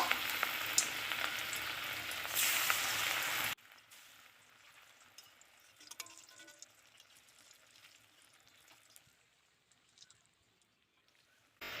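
Jackfruit koftas frying in hot white oil in a wok: a loud dense sizzle for the first few seconds, then a much quieter, crackling simmer with scattered small pops until the end.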